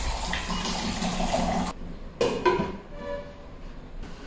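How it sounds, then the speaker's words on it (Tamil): Water is poured into a pan of beetroot cooking for a kids' lunchbox rice dish, a brief close splashing pour followed by a clink and softer bubbling in a kitchen. "பீட்ரூட் வெந்து வரதுக்கு தேவையான அளவு தண்ணி நம்ம ஆட் பண்ணிக்கலாம்."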